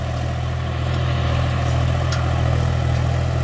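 A John Deere 5050D tractor in high first gear drags an 8x8 disc harrow, its engine a steady, heavy low drone with constant vibration and no pauses, loud and close throughout.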